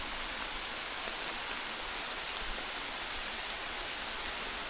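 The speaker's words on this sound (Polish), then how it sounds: "Jak tak zacznie mocno niespodziewanie padać, tak mocno, to zazwyczaj ten deszcz jest chwilowy." Heavy rain pours down at a wild forest campsite, a dense, steady hiss of drops on surfaces that stays constant and fairly close throughout, with no voices.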